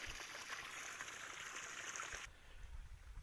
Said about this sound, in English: About 10 o'clock the speed of the water will increase to almost maximum